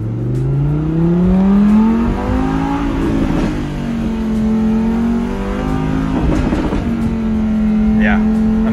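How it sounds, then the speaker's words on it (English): An Audi R8 V10 Plus, a V10 sharing its engine with Lamborghini, revs and accelerates hard through the gears, the engine note rising and falling loudly close by, with people talking over it. "the sound is just incredible coming from that Lamborghini Audi collab V10"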